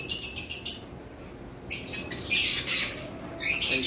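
Lovebirds at a bird farm chirp and squawk in shrill bursts, loud and close, with a brief lull in the middle before the calls resume.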